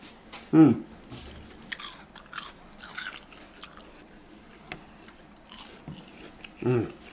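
Crunchy fried hard-shelled clams topped with mayonnaise, garlic and chilli sauce being bitten and chewed close up, with a sharp crunch at the start and another near the end and softer chewing between, under quiet speech.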